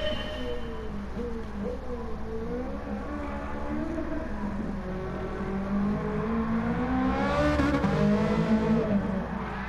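A high-speed car's engine drones and revs through rising and falling gear pitches, steady and fairly loud, swelling louder toward the end with a brief whooshing surge.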